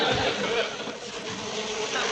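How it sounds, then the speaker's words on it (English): Bees buzz in a steady, dense drone indoors in a classic country television comedy, continuous and fairly loud throughout with no talk. "Listen to the buzzing of their merry little wings."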